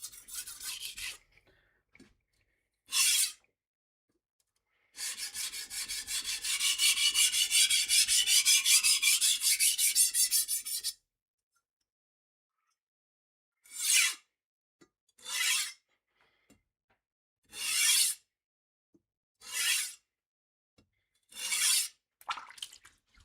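A blade is drawn across a 400 grit sharpening stone to work the bevels: one long rasping pass of several seconds, then a series of short separate strokes at regular intervals, close and alone.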